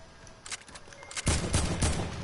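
AK rifle fire in a PS4 shooter game: short rapid bursts of shots, faint at first, then a louder, denser volley through the second half.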